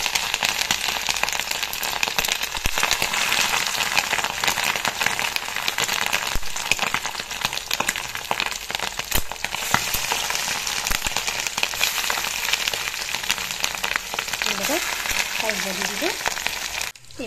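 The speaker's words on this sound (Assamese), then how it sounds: "এতিয়া মাছৰ কণীখিনি অলপ অলপকৈ ফ্ৰাই কৰি লম" Fish roe frying in hot oil in a wok, a loud dense crackling sizzle that runs continuously with sharp popping spits throughout, no voices.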